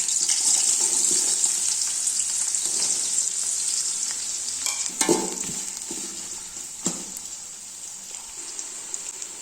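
Three large onions with green chilies and spices fry for chicken biryani, making a loud, continuous hissing sizzle with occasional stirring scrapes and clicks, heard up close without speech.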